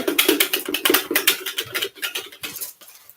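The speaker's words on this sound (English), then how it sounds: "I try to mix it up as best as I can with my little mixer" A small mixer whirs and rattles through soap batter, a busy continuous mechanical chatter that fades slightly toward the end.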